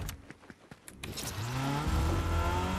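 A car driving in Fortnite: a few soft clicks and taps, then the engine starts up and builds into a steady, rising motor whine that stays loud and close.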